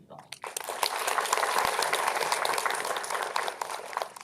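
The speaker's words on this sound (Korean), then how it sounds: "잠시 그 환영 인사 박수 한번 부탁드립니다." A lecture audience at a Korean university forum claps steadily for several seconds to welcome a visiting professor. The applause is dense and fairly loud, starting after a brief pause and tapering slightly at the end.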